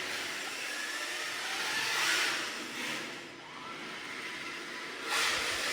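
An RC car drifting around cones makes a continuous high whine and hiss that swells and fades as it slows and speeds through the turns, heard from moderately far.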